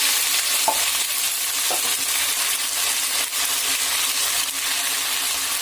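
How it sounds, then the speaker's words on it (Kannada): Sweet pumpkin pieces frying in plenty of oil in a home kitchen, a constant bright sizzling hiss with a few light stirring taps, steady and close. "ಇದನ್ನು ಇವಾಗ ತುಂಬ ಎಣ್ಣೆಗೆ ಫ್ರೈ ಮಾಡಬೇಕು"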